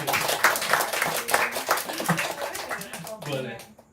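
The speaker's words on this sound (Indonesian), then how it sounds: "Kita kasih tepuk tangan" Audience clapping for a speaker at a design talk, a loose patter of hands mixed with overlapping voices and chatter, tapering off near the end.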